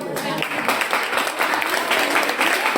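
An audience at a gathering claps for the sponsors, a short burst of steady, fairly close applause with some voices mixed in.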